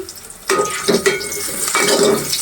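Onion and chopped garlic fry lightly in a pan, with a soft sizzle broken by several sharp scrapes and clinks of a utensil stirring against the metal, close and fairly loud.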